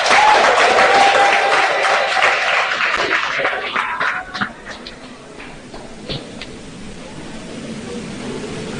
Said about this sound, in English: Let's once again applaud the sweet voices of democracy.